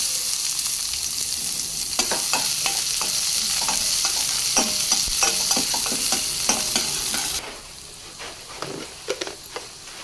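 Urad dal, chana dal and chopped onion fry and sizzle in a pan of hot oil while being stirred, with steady close sizzling and frequent scraping clicks; the hiss drops abruptly near the end as stirring continues.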